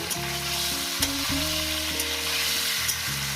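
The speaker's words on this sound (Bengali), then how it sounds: "এটাকে আমি আরও মিনিট দুয়ে ধরে ভাজবো শিমটাকে দিয়ে মিনিট দুয়ে ধরে ভাজবো" Green beans and green chili frying in a pan for a fish curry: a steady, even sizzle close by, with a low tonal melody running underneath throughout.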